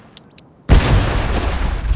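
Small bomb detonating in a video game, a few short electronic blips then an abrupt loud boom that rolls on as a sustained rumbling blast to the end.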